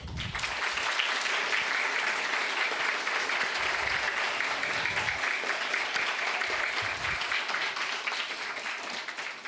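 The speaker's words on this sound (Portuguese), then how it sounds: "Uma salva de palmas para a escola" Steady, dense applause fills a session honoring the Arnaldo Ballvê school in Caxias do Sul, sustained and fairly even throughout, moderately distant in a hall.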